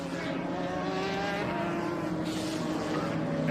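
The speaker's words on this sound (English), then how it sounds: "And that unmistakable growl of Jacek Mucha coming across the line as well" Race car engine at the PSSA feature race at Road Atlanta, a steady throaty growl of an engine passing the start-finish line, loud and continuous throughout with faint talk beneath.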